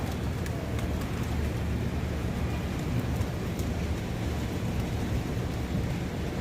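Steady heavy rain pours down on a rooftop garden with a dense, unbroken hiss, and low rumbles of thunder roll underneath.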